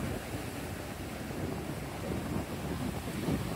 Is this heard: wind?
yes